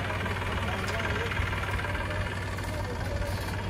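A tractor engine idles close by with a steady, continuous low rumble and slight vibration throughout, holding an even level from start to finish.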